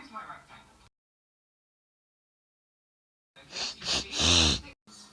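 A cartoon-style sneeze triggered by pepper in a children's animated show: a loud, close burst with a rising breathy build-up and a sharp release, after a short gap of silence and a brief snippet of voice.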